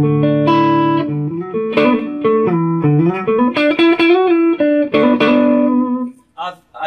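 A clean electric guitar tone, dry with no reverb or delay, played through a Quarterhorse 25W Microamp with the guitar volume rolled back: loud, close sustained chords and single notes in a rhythmic phrase, ending in a short gap and a final strum.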